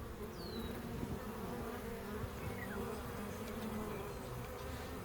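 Steady, dense buzzing of a bee swarm hums close by over a low background drone, with a few individual bees passing near, and no talking.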